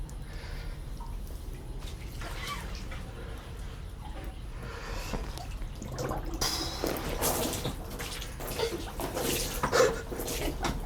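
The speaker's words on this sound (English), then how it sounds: "Might have put a little too much water in it, as you can probably see and hear." Water sloshing and splashing in an overfilled ice bath as a person climbs in, soft trickling at first, then louder churning splashes and drips up close, with no talking.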